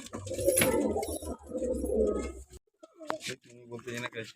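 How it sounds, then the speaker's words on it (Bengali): Giribaz pigeons coo in low, throaty bursts close by, with a voice speaking intermittently between the calls. "দেখুন সব গিরিবাজ পায়রা আছে"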